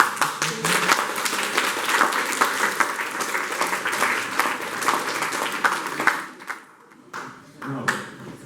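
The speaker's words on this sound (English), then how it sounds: "I'd like for you to applaud Defne" An audience at a TEDx event applauds with dense, sustained clapping that stays loud for about six seconds, then tapers off and briefly picks up again.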